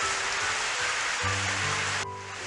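Heavy rain from a downpour in the video game Never7 makes a steady, dense hiss throughout. Low background music tones come in partway through.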